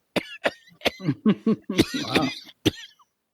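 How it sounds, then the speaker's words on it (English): A run of sharp, close coughs, five or six harsh bursts spaced unevenly with short rough throaty sounds between them. "When you cough, I don't laugh"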